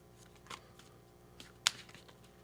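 Playing cards are shuffled in a few quick, soft riffles, with one sharper snap of cards partway through over a quiet background.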